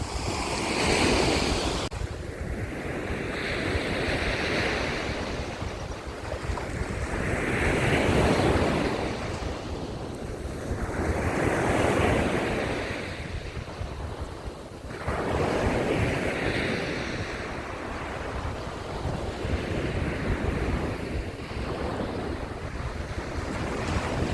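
Sea waves breaking on the beach at Langeron in Odesa, a steady wash of surf swelling and receding in slow repeated surges, heavy with wind noise on the microphone.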